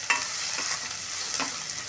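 Chopped onion sizzling in a hot pan, a steady close hiss broken by a few soft stirring scrapes, with no voices.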